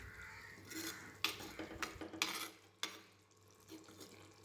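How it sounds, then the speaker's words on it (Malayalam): Gentle stirring of prawn roast in a pan, with soft scrapes and a few light clinks of a spoon against the pan, close and quiet, without any talk. "ചെമ്മീൻ പൊടിഞ്ഞു പോകാതെ ചെറുതായിട്ടൊന്ന് ഇളക്കി കൊടുക്കാം"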